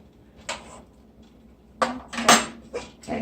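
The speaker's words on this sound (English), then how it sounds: "I always mix it so it doesn't stick to the bottom." Kasha being stirred in a pot sounds as a few separate clinks and scrapes of a utensil against the pan, close by, with quiet gaps between them and no talking.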